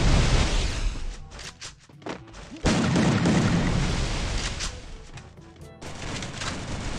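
Rapid bursts of game gunfire with booming shots and brief pauses, loud and continuous across the clip, with no talking heard.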